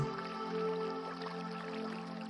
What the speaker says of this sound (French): cette eau cherche à trouver une voie pour continuer de s'écouler